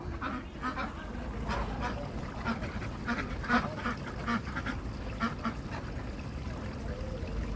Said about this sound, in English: There's the 4 ducks here. Old Town ducks.